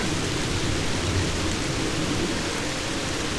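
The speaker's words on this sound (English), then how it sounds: "It's actually just starting to rain right now" Rain beginning to fall in the woods, a steady broadband hiss of drops pattering on leaves and ground that holds even and fairly loud throughout, with no voices.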